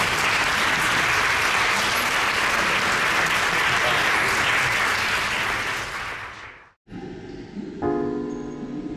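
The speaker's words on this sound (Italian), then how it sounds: "che insieme a Sebastiano Salgado ringrazierei con un applauso di accoglienza" Sustained applause from a large audience at a Sebastião Salgado event at Fabbrica del Vapore, Milan, steady and loud for several seconds, fading out before a short silence and some quieter sounds.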